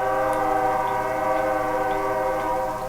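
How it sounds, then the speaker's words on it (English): A train horn blows outside a television studio in one long sustained chord of steady tones, loud and continuous for the whole stretch with no talk over it. "Train, we know you're there. You can stop blowing the fucking whistle any goddamn time."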